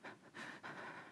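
A voice imitates the panting breath of fear, producing three quick, ragged, breathy gasps close to the microphone.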